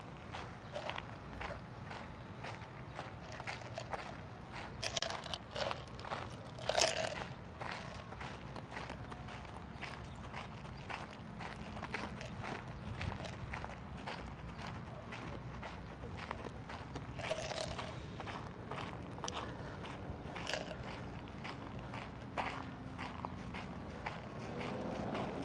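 Footsteps on a city street on the way to the U.S. Capitol, a steady walking rhythm of close steps throughout against a continuous outdoor background.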